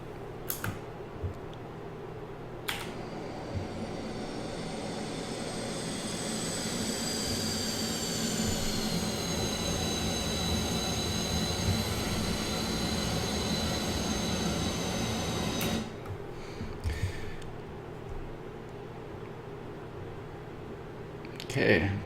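A Northrop F-5E Tiger II jet in the DCS flight simulator, its engine giving a steady roaring rumble with a high whine that rises and drifts throughout. A few sharp clicks sit at the start and near the end.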